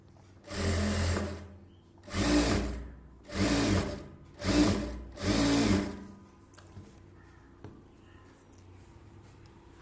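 A sewing machine stitches a blouse piece onto a belt in five short bursts of rapid mechanical whirring, each about a second long with brief pauses between, then falls quiet apart from faint handling noises.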